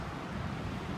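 Strong, gusty wind blowing outdoors on a very windy day, beating on trees near a flagpole; a steady, loud broadband roar with buffeting across the microphone, no voices.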